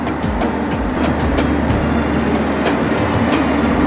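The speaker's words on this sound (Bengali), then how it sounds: "বাংলাবান্ধা এক্সপ্রেস ট্রেনটি ওই যে প্রবেশ করতেছে আমাদের পার্বতীপুর রেলওয়ে জংশনে" Steady low rumble with rhythmic clacking of wheels over rail joints as the Banglabandha Express, running Panchagarh to Rajshahi, rolls into Parbatipur railway junction station, no voices.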